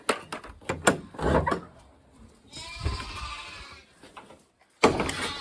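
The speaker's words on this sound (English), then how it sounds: "I'm gonna feed my lambs." Lambs in a pet lamb shed bleat several times at close range, mixed with rustling and a clunk like a door or gate moving.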